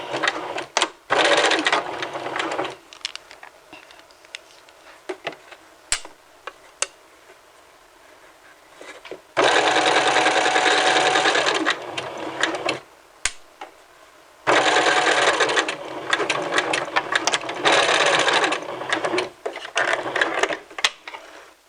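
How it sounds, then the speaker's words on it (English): A sewing machine stitches the shoulder seam of a McCall's 7531 garment, running from the neck edge out at a 5/8 inch seam line. Three long, steady whirring runs are separated by quiet pauses and faint handling clicks. "we're going to sew from the neck edge out to the shoulder. Line it up at your 5/8 inch seam line and sew it together."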